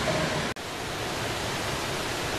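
A waterfall in Wisconsin pours in a steady, dense broadband rush, loud and unbroken apart from a split-second dropout near the start.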